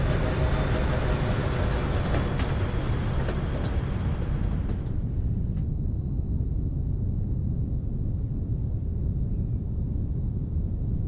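A train rumbles in with a dense, broad roar that fades to a steadier low rumble, accompanied by a faint high chirping like crickets or rail squeal, with no talking.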